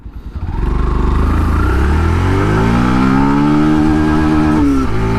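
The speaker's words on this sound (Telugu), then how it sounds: "ఇప్పుడు ఈచ్ గేరు టాప్ స్పీడ్ ఎంత పోతుందో ఈ ఎఫ్జెడ్ వర్షన్ 3లో చూద్దాము." Yamaha FZS version 3 motorcycle on National Highway 44 accelerating hard through successive gears, its engine note climbing steadily in pitch, loud and close, with a brief dip at a gear change near the end.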